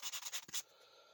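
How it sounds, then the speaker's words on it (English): A sanding block rubs briskly along a rough-cut leather edge, five or six short scratchy strokes in quick rhythm, close and clear, then stopping into quiet room tone. "I'll take a sanding block"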